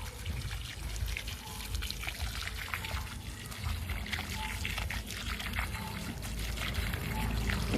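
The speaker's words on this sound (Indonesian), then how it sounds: "kita siram lagi" Water is poured onto the soil around a newly planted horn plantain banana plant, a steady close trickle and splash lasting several seconds, with faint voices in the background.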